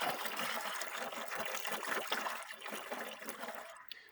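Engine coolant from a Duramax 3.0 drains into a bucket, a continuous close splashing and trickling stream that fades out in the last moment.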